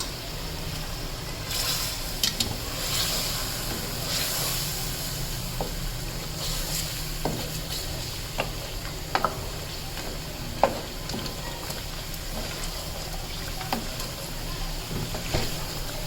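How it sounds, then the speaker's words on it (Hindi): Spices being stirred in a pot for palak chicken, a continuous soft sizzle with scattered scraping clicks of a spoon against the pan throughout, close and steady with no talk. "ये देखिए मसाले डाल के भी मैंने इसको थोड़ा चला लिया है।"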